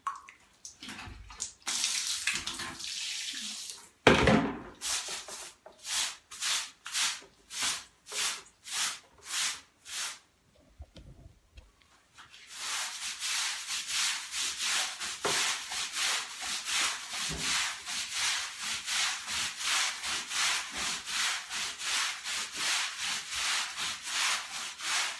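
Steel wool scrubbing household items in soapy water with dish soap: rapid, regular rasping strokes, loud and close, with a short pause midway before a steady, denser run of scrubbing continues to the end.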